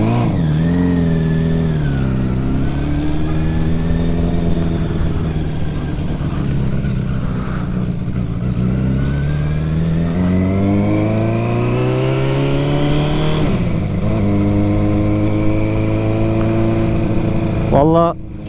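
A Suzuki Bandit 600 (GSF600) motorcycle engine revving loud and close, its pitch climbing and falling through several long throttle sweeps, with voices heard now and then over the engine.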